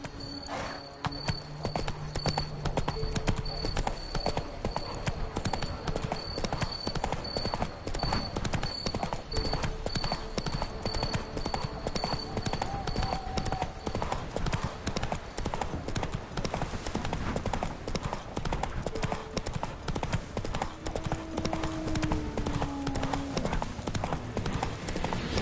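Roach the horse trotting in Witcher 3, a rapid, steady clip-clop of hooves on the ground running for the whole stretch, fairly quiet, with occasional game voices and ambience underneath.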